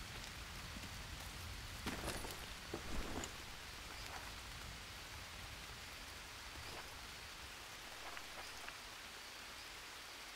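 Rain falls in the Green Hell jungle as a constant hiss of drops on surfaces, with a few louder splashes and patters early on, steady and alone.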